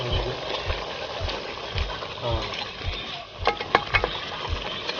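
A ladle stirs and scoops frying crab in a pan, with soft sizzling throughout and a few sharp metallic scrapes and clinks toward the end, while a person talks nearby.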